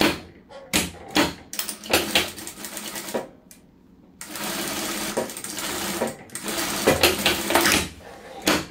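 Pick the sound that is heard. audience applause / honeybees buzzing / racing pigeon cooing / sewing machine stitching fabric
sewing machine stitching fabric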